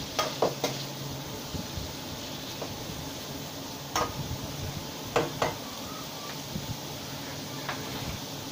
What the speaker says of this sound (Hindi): ये देखिए प्याज को डालकर अच्छे तरीके से हम थोड़ा सा ब्राउन कर लेंगे।